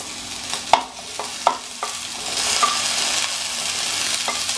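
Chopped carrot and peas are stirred in a hot pan for Mexican rice: a few sharp spoon scrapes and clinks, then a steady, close sizzle of frying that holds to the end.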